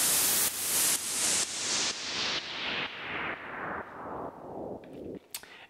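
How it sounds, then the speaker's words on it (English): Sidechained white noise in an FL Studio remake of an EDM track, a loud hiss pumping in a steady rhythmic swell, about ten ducked pulses slowly dropping in brightness. "And the white noise is also sidechained. So if I turn on the sidechain trigger, we've got this pumping going on."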